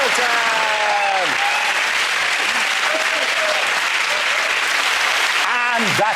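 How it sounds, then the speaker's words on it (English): A television panel show's studio audience claps steadily and loudly throughout, a dense, sustained wash of applause with a few tonal cues and musical flourishes sounding over it near the start and end. "give it a round of applause for Chris, Hugh and Milton"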